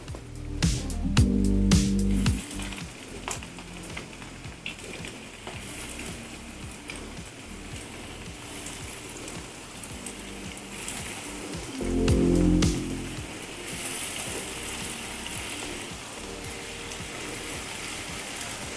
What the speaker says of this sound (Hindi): ये अब मैं इन्हें फ्राई होने के लिए रखूँगी